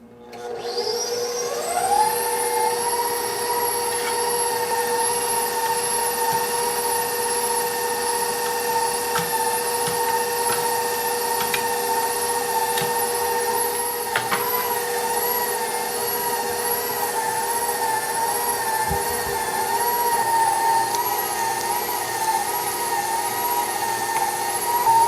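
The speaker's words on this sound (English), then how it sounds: "When you're using a KitchenAid stand mixer and a grinder attachment, what you want to do is have the speed set to about 3 or 4." A KitchenAid stand mixer with a grinder attachment runs at speed 3 or 4, grinding meat for sausage. It spins up after about two seconds into a loud, steady motor whine with strong harmonics that holds unbroken for the rest of the clip, with no talking.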